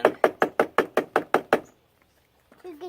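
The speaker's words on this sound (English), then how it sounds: "Let's see if we can knock the sand out." A cast metal key is knocked to shake off casting sand: nine sharp, evenly spaced knocks in quick succession, then near silence before a voice briefly begins.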